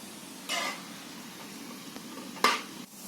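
Shankarpali frying in hot oil, heard as a soft continuous sizzle with two brief louder splashes or stirs, close and otherwise quiet.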